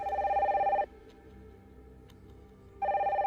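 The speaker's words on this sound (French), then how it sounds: "le téléphone a sonné au poste des infirmières" A telephone at a hospital nurses' station rings loudly in two electronic trilling bursts, separated by a couple of seconds of quiet.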